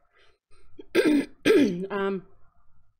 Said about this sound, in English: Apologies while I clear my throat.